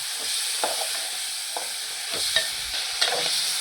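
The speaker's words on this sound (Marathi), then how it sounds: "हळद टाकून आहे ना त्याला हलवून घ्यायचं व्यवस्थित तेलावर चांगलं असं फ्राय करायचं" Chicken coated with turmeric stirred and fried in oil in a pan for a Maharashtrian chicken thecha, giving a steady sizzle broken by several scraping stirs, close up with no talk.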